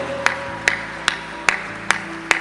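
An audience at a Hindi poetry recitation claps in six short, sharp bursts spaced about half a second apart over a faint steady hum, with no talk.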